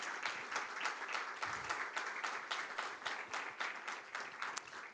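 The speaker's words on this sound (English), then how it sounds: "give a big applause to our two guests" Conference audience at an EU event on deep-tech unicorns breaks into sustained applause, many hands clapping in a dense, even wash that holds steady for several seconds with no speech over it.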